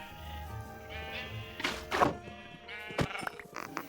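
Minecraft sheep bleat a few times at close range inside a farm pen, their wavering calls mixed with a couple of soft thunks and game sounds, with no talk.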